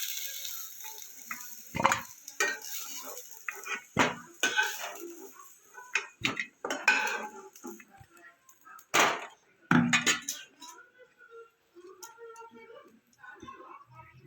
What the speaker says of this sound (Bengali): ওলকপিটা একটু হালকা করে ভেজে নেবো।